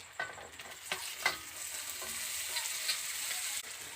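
Tomatoes with chilli powder, turmeric and cumin sautéing in a pan: a soft steady sizzle broken by several sharp scraping stirs, close and fairly quiet, with no talking.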